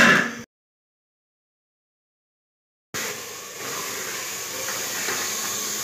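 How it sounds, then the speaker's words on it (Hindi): Tadka sizzles in a pan with dried chicken, a steady close hiss that starts abruptly after a brief burst of sound and a stretch of silence, then continues evenly to the end. "बस तड़का जो है वो लग रहा है।"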